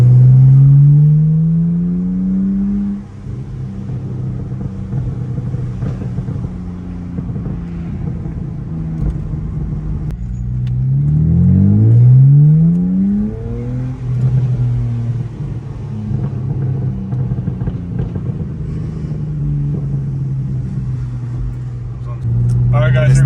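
A 2011 BMW E92 with its resonator and secondary catalytic converter removed drones and accelerates through a tunnel, its exhaust rising in pitch through gear changes, loud and close from inside the car while someone talks over it.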